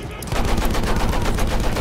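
Sustained automatic gunfire and battlefield explosions from the World War I shooter Battlefield 1, a dense, loud barrage of rapid shots filling the whole stretch with little pause.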